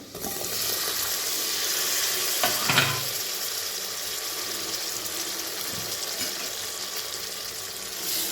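Tomato and potato sauté in a hot pan, giving a loud, steady sizzle with a brief stirring scrape partway through.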